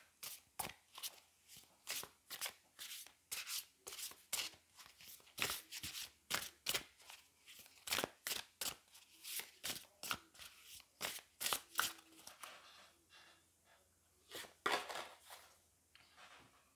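Tarot cards shuffled by hand in a steady run of crisp, close riffling slaps and flicks, with a few short pauses and quieter stretches toward the end.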